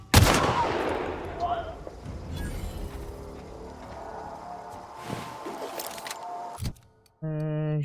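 Assault rifle fire in a sci-fi shooter game, a loud opening burst of shots followed by scattered impacts, clanks and mechanical noises, with another burst later and a tonal electronic sound at the end.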